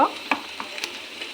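Onion paste with Kashmiri chilli, cumin, coriander powder and crushed ginger frying in a pan for egg curry, a loud close sizzle broken by quick stirring scrapes.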